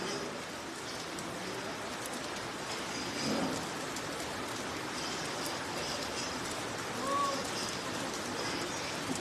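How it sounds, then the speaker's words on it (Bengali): Steady rain, suddenly heavier, falls in a constant soft hiss at an outdoor cattle market, with a faint low rumble and a brief bird chirp in the background. "বৃষ্টিটা আবার হঠাৎ বেড়ে গেছে"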